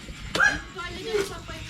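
A dog gives a couple of short, sharp barks at middle distance, with a faint murmur of voices around it.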